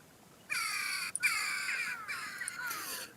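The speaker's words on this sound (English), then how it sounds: "we got the jackdaws in the trees behind and some of the houses behind me." Jackdaws call from trees behind houses in a residential area, a harsh run of repeated chattering caws close by and fairly loud, with brief breaks between bursts.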